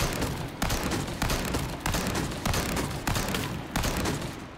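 Heavy gunfire in the video game Resident Evil 4 Remake, a run of about six loud booming shots at a steady pace of roughly one every half to one second, each with a long rumbling tail.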